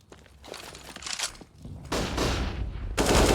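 Counter-Strike gunfire during an IEM Rio Major 2022 match between MOUZ and Fnatic, with several quick shots, then rapid bursts growing louder and denser, ending in a heavy close volley.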